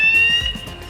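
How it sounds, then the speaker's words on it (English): A KUHN Centramix mixer control box sounds its alarm, a short, loud, steady electronic tone that holds briefly and then fades. "you have the alarm"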